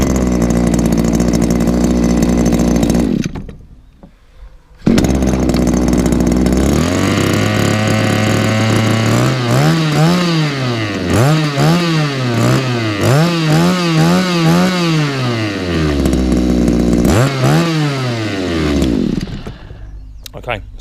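A petrol hedge trimmer engine, loud and close, roars steadily, cuts out briefly, then restarts and revs up and down in repeated surges before settling, with a person talking over it at times.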